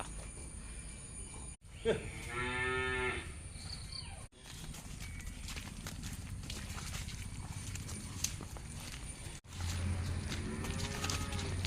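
Cattle are led out to be tied up on a farm, with a cow's drawn-out moo near the start and another fainter moo near the end over outdoor background noise.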